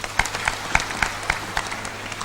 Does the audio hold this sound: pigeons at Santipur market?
no